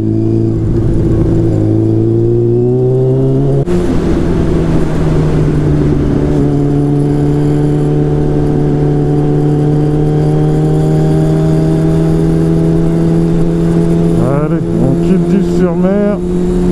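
A steady engine drone holds a constant pitch, then shifts gears and revs a little higher as the ride continues, close and loud throughout.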